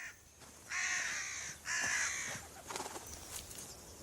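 Two loud, harsh crow caws sound close by, each about a second long, followed by fainter rustling and scattered clicks in an open natural setting.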